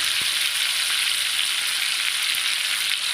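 Fish pieces coated in masala frying in hot oil, a steady close sizzle that holds evenly throughout with no voices over it.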